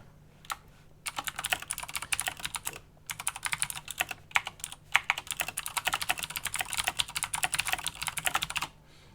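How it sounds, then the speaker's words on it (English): Loud mechanical keyboard being typed on in quick, irregular bursts of sharp clacking keystrokes, close and clear, with short pauses between flurries. "It's the only trouble with this new mechanical keyboard, it's very loud."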